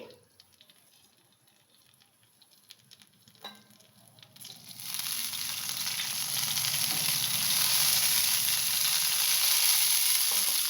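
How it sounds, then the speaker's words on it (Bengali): Dried red chillies and black cumin seeds hit hot oil and burst into a loud, steady sizzle and crackle. The sound builds and then holds at full strength, with no talking over it. "তেলটা গরম হচ্ছে ততক্ষণ আমি এখানে দুটো শুকনো লঙ্কা আর হাফ চামচ কালো জিরে"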